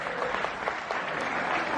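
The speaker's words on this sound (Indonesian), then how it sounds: "Tepuk tangan untuk Insan Produksi Indonesia." Steady audience applause fills the whole stretch, a dense wash of many hands clapping at an Indonesian production gathering, even and close throughout.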